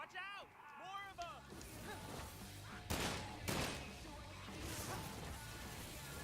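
Enemies shooting guns in Sunset Overdrive on Xbox One: sharp bursts of gunfire crackle amid chaotic game sound effects, with someone talking over the action.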